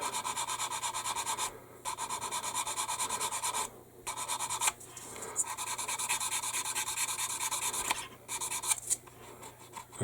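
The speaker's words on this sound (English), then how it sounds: "I think we should be able to sand that down." A part from a plastic 1/72 Airfix B-17G model kit is sanded by hand, giving close, steady raspy strokes in several long bursts separated by brief pauses, with no talking.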